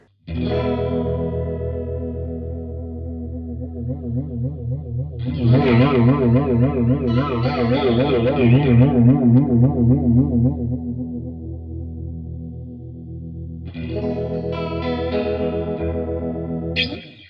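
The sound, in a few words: flanger effect on strummed guitar chord, Zander Circuitry Junipero pedal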